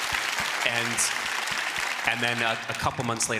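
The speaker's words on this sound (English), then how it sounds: "you can clap for her" Audience applause at a talk on institutional antisemitism fills the room as a steady wash of clapping, continuing underneath a voice speaking over it.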